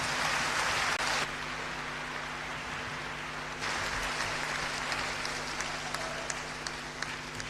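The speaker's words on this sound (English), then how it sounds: "deserve a bigger and a louder round of applause" Audience applause at a talent show grand finale, a steady wash of clapping that drops in level after a second, then swells again with scattered sharper claps over a low hum.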